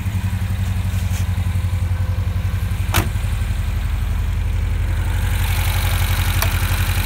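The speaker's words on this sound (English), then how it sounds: "And the fuel-injected V20E engine." A 1970 Volvo 1800E with its fuel-injected engine idling, a steady low rumbling idle with a rhythmic mechanical clatter, close and loud, one sharp tick partway through, no speech.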